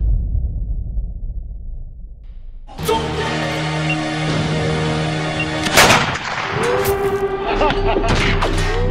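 Gunfire in a movie scene: after a quiet rumble, a loud sustained sound starts, then several sharp shots crack out over it.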